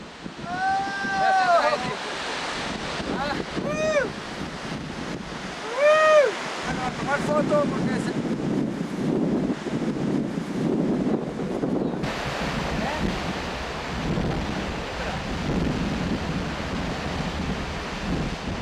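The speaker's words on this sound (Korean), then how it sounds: "거대한 폭포 소리와 함께 날선 바람과 물보라가 휘몰아친다" Constant roaring rush of a huge mountain waterfall in Venezuela, with gusting wind and spray buffeting the microphone; voices call out briefly over the din early on.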